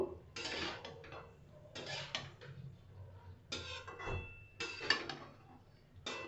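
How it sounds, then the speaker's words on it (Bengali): Drumstick flowers stirred in a cooking pan, heard as bursts of metal spoon scraping and clattering against the pan, separated by brief pauses, close and moderately loud. "সজনের ফুল দেওয়ার পরে একটু ভালো করে নাড়িয়ে চাড়িয়ে নেব।"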